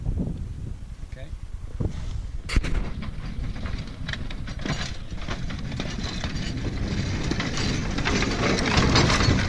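A low rumbling roll with rattling clatter builds steadily as a mine railway car moves along tracks nearby in Bolivia's Cerro Rico mine, with a voice speaking over it.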